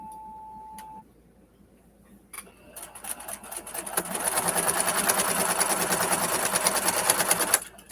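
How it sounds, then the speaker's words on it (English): Sewing machine stitching fabric around a border, starting after a short beep and quiet pause, then running fast and steady at close range for several seconds before stopping abruptly. "Very mindless sewing, right?"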